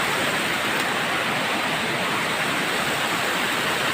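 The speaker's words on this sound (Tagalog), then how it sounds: "Falls. Madire Falls." Madire Falls waterfall roaring as a steady, dense wash of falling water, loud and close, with no breaks across the whole stretch.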